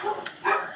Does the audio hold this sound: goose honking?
no